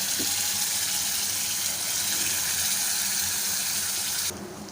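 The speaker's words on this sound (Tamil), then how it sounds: "கொஞ்சமாக தண்ணி சேர்த்துக்கலாம்" A steady stream of water pours and gushes continuously into a cooking pan of rajma gravy, fairly close, then cuts off abruptly near the end.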